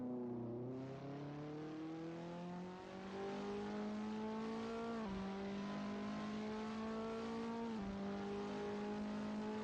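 A Skip Barber race car engine at Jerez in Assetto Corsa, held steady and loud, rising in pitch with two sharp dips as it downshifts through the gears, with no voices.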